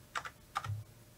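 Two quick clicks of a computer keyboard key being pressed during After Effects editing, close and fairly crisp against a quiet room hum, no talking.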